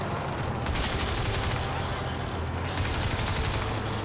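Rapid alien gunfire from the video game Crysis 2, loud and continuous bursts of automatic fire crackling steadily across the whole stretch over a constant game background rumble, with no talk.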